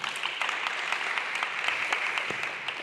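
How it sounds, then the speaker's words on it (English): An audience claps for a FISU assessor at a university sport event in Helsinki, a steady even patter of many hands held at moderate loudness for the whole stretch with no voices over it. "I want to greet the FISU assessor, Caris Hoop, who is in the room, for which I call for a clap of hands"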